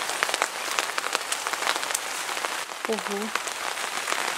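Steady rain falls on a garden plot at a country dacha, a dense even patter of drops throughout, with a brief murmured voice partway through.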